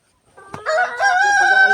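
A rooster on a chicken farm lets out a single loud, close crow that rises and holds steady after a brief scuffle.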